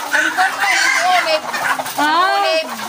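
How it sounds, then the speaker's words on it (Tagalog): Many laying hens in small cages cluck and call close by inside a laying house, a busy, overlapping chorus of drawn-out squawks and clucks with no talking. "Pinasok natin yung isang paitlugan. Paitlugan ng manok."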